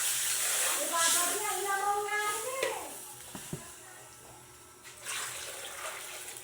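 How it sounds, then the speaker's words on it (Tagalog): Chicken sizzling and simmering in a pan for pancit bihon with canton, a soft steady hiss that fades partway through, with a brief clatter near the end. "Sisimmer muna natin na ganyan hanggang magisa po yung ating chicken."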